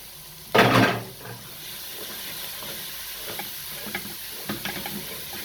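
Minced meat dropped into a hot pan gives a sudden loud burst of sizzling, which settles into a steady frying hiss with occasional stirring clicks.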